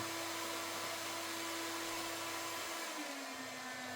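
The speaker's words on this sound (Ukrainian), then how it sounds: "фен запустило і ось 1800 Вт, все працює" A 1800 W hair dryer powered from a portable power station blows steadily with a loud, even whoosh and a high motor whine that shifts pitch slightly toward the end.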